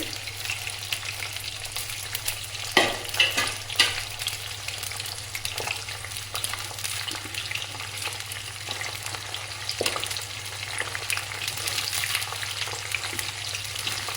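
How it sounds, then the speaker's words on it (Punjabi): Onions for a tadka sizzle steadily in a hot pan while a spoon scrapes and stirs through them now and then, with no talking. "ਆਪਾਂ ਨੂੰ ਹਿਲਾਉਂਦੇ ਰਹਾਂਗੇ ਤੇ ਆਪਣੇ ਪਿਆਜ਼ ਬੜੇ ਵਧੀਆ ਤਰੀਕੇ ਨਾਲ ਭੁੱਜਣਗੇ"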